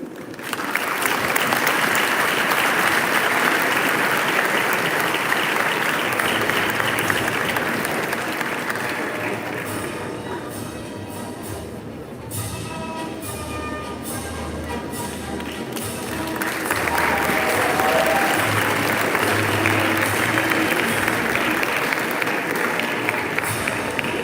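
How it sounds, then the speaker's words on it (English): A closing-ceremony audience gives sustained applause, a dense wash of many hands that eases off midway, then swells back up loud and steady. "Please, can we have a round of applause for Vrushav Batu?"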